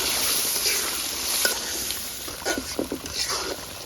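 Potatoes frying in a spiced, well-cooked masala for a river fish curry, a steady close sizzle with a few stirring scrapes near the end.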